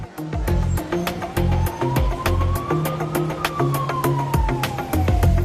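A loud ambulance siren wails nearby, its pitch sweeping slowly up and down, over rumbling traffic and repeated sharp clicks.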